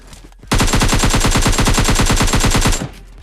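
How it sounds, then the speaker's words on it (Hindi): Rapid automatic gunfire in PUBG, a loud sustained burst of evenly spaced shots lasting about two seconds after a brief quiet lead-in, then stopping abruptly. "अब देखो नदिया पार भी गोलियां चल रही थी"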